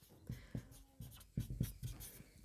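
Quick scratchy writing strokes during a time-and-work maths lesson: short, uneven bursts with brief pauses between them, fairly close and moderately loud, with no talk over them.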